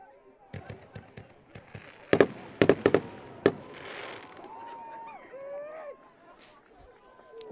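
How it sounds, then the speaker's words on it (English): Fireworks burst at a rainy high school football playoff game, with several sharp cracks and a tight cluster of loud bangs over distant crowd murmur, then whistling, whooshing trails afterward. "Wondered if we might have fireworks with rain tonight, and we do."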